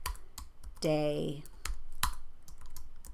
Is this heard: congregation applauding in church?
no